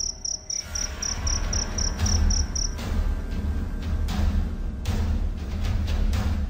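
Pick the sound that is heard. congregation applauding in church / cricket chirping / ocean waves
cricket chirping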